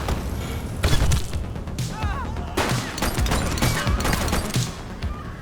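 Gunfire in The Precinct video game, with a fusillade of loud sharp shots in dense bursts among thuds and crashes during a chaotic police action scene.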